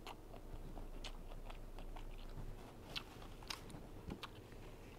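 Someone eats spicy Thai-style papaya salad with hot dogs and red sausages close to the mic, with crisp crunchy bites and wet chewing in quick irregular bursts.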